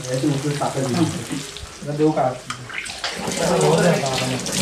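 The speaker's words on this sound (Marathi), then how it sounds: "मस्तपैकी फ्राय चालू आहे." Steady sizzling of food frying in a pan, loud and close, with people talking over it.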